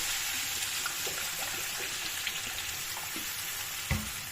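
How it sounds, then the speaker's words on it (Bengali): Water goes into a hot pan of spices already fried in oil, raising a loud, steady sizzling hiss with a few faint clinks, during a home cooking contest. "এবারে আমি এতে একটু জল দিয়ে দেবো"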